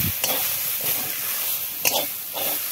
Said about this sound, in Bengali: এখন তেল দিয়ে দিব, তেল দিয়ে ভালো করে ভেজে নেব।